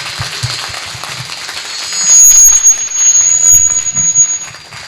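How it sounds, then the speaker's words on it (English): Audience applause for panelists at the close of a Spanish space sector panel discussion, fairly faint clapping that builds midway alongside a thin high-pitched tone. "So please give them a big round of applause."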